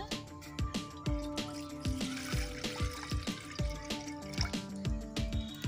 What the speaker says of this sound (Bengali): এবারে আমি দিয়ে দিচ্ছি কিছুটা জল।